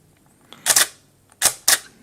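A Nikon DSLR with a stuck mirror clicks as its shutter button is pressed and the aperture lever moves, giving three sharp close mechanical snaps after a faint tick, alone in a quiet room.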